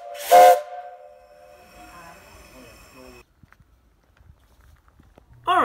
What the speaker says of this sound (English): And what's a steam engine without a little peep peep?